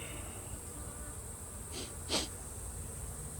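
Honeybees from a caught swarm hum steadily around their hive in a green apiary, a faint continuous drone with a brief closer buzz as one passes near.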